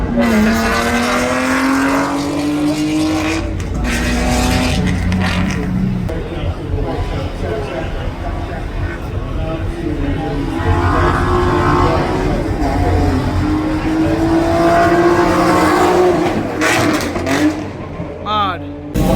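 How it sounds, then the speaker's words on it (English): A rally car on a test run at Rally Barbados, its engine revving and climbing through the gears, loud and close for the whole stretch, with voices of a crowd murmuring underneath. "this is just pretty much like a test car here now. Testing out the car."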